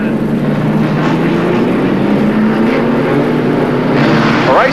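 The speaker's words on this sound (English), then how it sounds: "Racing at long last in the Gemini series at Surfers Paradise, and away they go" A field of 1987 Gemini series race cars roars away from the start at Surfers Paradise International Raceway, many engines droning loudly together with rising pitches as they accelerate.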